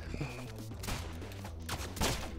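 Rapid in-game gunfire from the game Rounds, several sharp shots bursting in quick succession over a busy, loud game mix.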